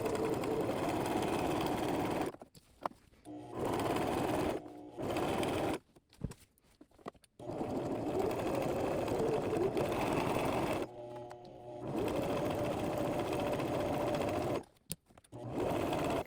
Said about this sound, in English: I'm gonna sew all along here and try to stay on this line